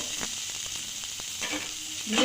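Chopped carrot, capsicum and tomato hit melted butter over high heat, giving a steady close sizzle with a few scraping stirs, swelling louder at the end.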